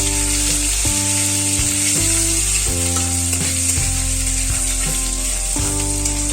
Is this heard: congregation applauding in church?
no